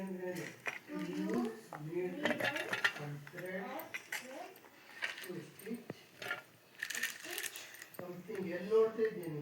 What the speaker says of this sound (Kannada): ಈಗ ಈ ಶುಂಠಿ ನಲ್ಲಿಕಾಯಿ ಎಲ್ಲ ಮಿಕ್ಸಿಗೆ ಹಾಕ್ಕೊಳ್ಳೋಣ